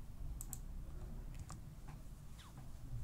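Computer keyboard typing, a quiet run of light clicking keystrokes in irregular bursts over a low background hum, with no talking.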